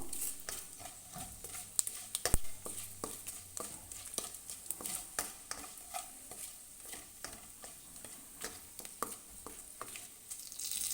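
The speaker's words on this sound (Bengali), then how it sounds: "এবার ভালো করে নাড়াচাড়া করে একটু ফোড়নটা ভেজে নেব।" Whole dried red chillies, broken in half, frying in hot oil with other tempering spices while being stirred, a low sizzle under frequent rapid taps and scrapes of a spatula, close and quiet.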